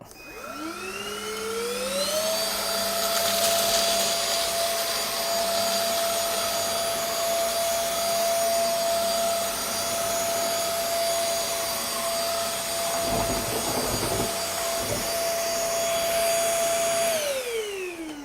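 An SVHT V15 cordless vacuum runs on carpet, its motor whine rising as it spins up, holding a steady high drone with airy suction rush and brief rattling pickup of debris near the end before winding down.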